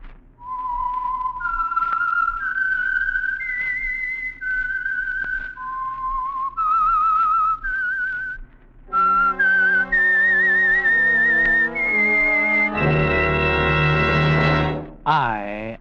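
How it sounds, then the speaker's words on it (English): A whistled melody serves as the theme for the Signal Oil radio program The Whistler: a lone, clear whistle traces a slow eerie tune in sustained notes, then an orchestra swells beneath it and carries the motif to a loud close. "the signal to listen for is this whistle that identifies the Signal Oil program"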